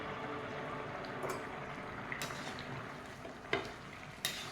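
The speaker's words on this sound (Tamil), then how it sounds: "ஒரு வாட்டி கிண்டி விட்டுடலாம்" Veg pulao rice stirred in a pot over a low sizzle, with a few scraping clinks of the spoon against the pot.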